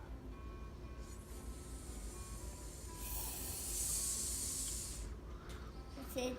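A young child imitates a snake with a breathy hiss that rises into one sustained, louder burst lasting about two seconds amid faint background noise.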